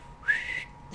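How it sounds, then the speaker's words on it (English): A whistle blown once during a live tarot-reading stream: a single short, bright mid-pitched tone lasting about a third of a second, over a quiet room background. "Where's my whistle at?"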